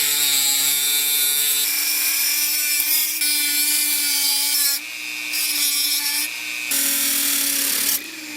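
A high-pitched power tool whines loudly and close up while cutting into a carburetor, holding a steady tone with brief drops and surges as the cut bites.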